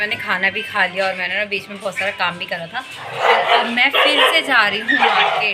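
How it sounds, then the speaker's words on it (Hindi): Dogs bark repeatedly in the background during Diwali shopping, someone talking steadily over them throughout. "कुत्ते भौंक रहे"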